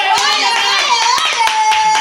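Several people clap their hands in a quick, uneven burst, loud and close, while excited voices, some of them children, talk over the claps.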